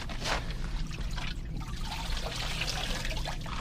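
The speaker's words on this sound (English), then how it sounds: "You can see all the water that's back through that line. That's from the check valve." Water trickling and pouring out of a sump pump discharge line, backed up from the check valve, a continuous close splashing flow over a low steady hum.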